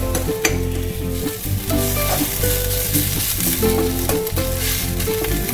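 Spices for thuthuvalai rasam, including asafoetida powder, are stirred in a hot frying pan. A steady sizzle and frying crackle runs throughout, with repeated scraping and clinking of a spoon against the pan, close and loud.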